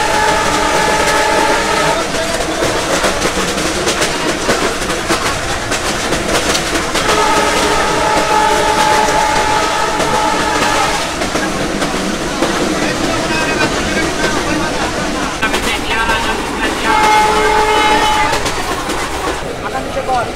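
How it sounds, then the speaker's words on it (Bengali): Mongla commuter train pulling out of Jessore Junction in Bangladesh, a loud continuous rolling rumble heard from on board, with long tonal horn-like blasts rising over it a few times. "আমাদের ট্রেন ছেড়ে দিচ্ছে যশোর জংশন"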